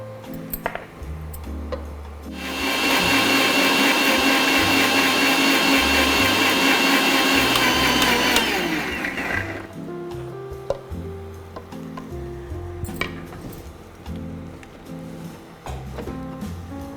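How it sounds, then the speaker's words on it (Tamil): A mixer grinder grinds coconut in a steady, loud roaring whir of about six seconds that winds down, with quieter kitchen clatter and background music before and after. "இப்போ இது கூடவே வந்து நம்ம தேங்காயை போட்டு அரைச்சி எடுத்துகிட்டு வந்துக்கலாம்"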